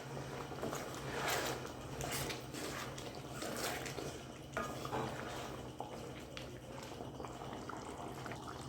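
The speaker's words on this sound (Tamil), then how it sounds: "தண்ணி சேர்த்துட்டு நல்லா மிக்ஸ் பண்ணி விட்டுக்கலாம்" A spoon scrapes and clinks against a pot as thick chicken curry with added water is stirred steadily, sloshing softly, with a low hum in the background.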